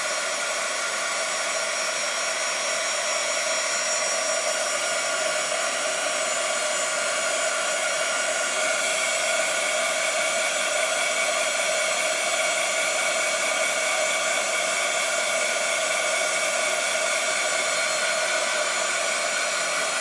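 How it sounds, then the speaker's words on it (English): Handheld hair dryer blowing on tacky chalk paste over a crafted vintage truck design: a loud, unbroken, steady motor whir and airflow roar that holds constant for the whole stretch, close to the microphone, with no voices. "I'm just drying it to get it a little bit less tacky so I can put on the third layer."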